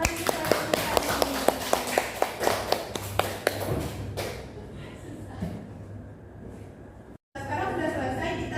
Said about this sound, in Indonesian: Kasih tepuk tangan untuk Tiffany.